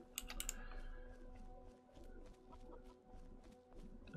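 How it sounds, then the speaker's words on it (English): A chicken clucks in a farming video game, short high bursts near the start, faint and set against a busy bed of computer keyboard typing and low hum. "Oh, there's a chicken around somewhere."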